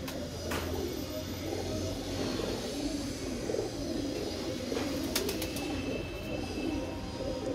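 A pigeon coos repeatedly in steady low murmurs during rainy weather, set against a constant wash of outdoor noise with a few sharp clicks.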